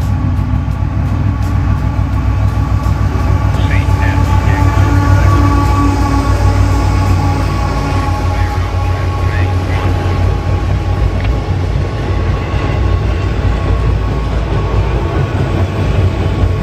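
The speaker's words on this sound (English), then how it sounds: "the first train of the day made its appearance as a southbound auto rack train passed by, led by CSX" Southbound CSX auto rack train led by locomotive 3307 rolling past, a loud continuous rumble and clatter of wheels over rails held steady throughout, close to the track.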